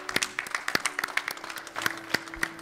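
A studio audience on a televised religious broadcast claps steadily, a close, moderate patter of individual hand claps with no voices over it.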